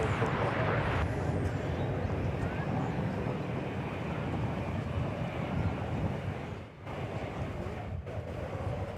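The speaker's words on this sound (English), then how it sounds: "This is an Airbus A320, Flight 303, going to Spokane," Airbus A320 airliner on Flight 303 to Spokane, Washington, at DFW airport, a steady broadband engine rumble with some wind buffeting the microphone and brief dips near the end.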